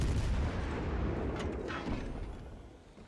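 Warship guns in World of Warships Legends fire armor-piercing shells from a Spanish cruiser, a deep rumbling boom rolling out and slowly fading, with a faint crackle partway through.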